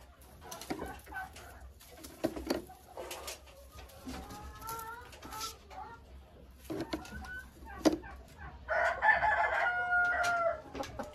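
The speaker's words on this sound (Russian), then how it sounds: "А куры продолжают себе нестись." Hens in their nests in a chicken coop give scattered clucks and short calls, some soft and some louder, with a brief burst of busier squawking near the end over quiet rustling.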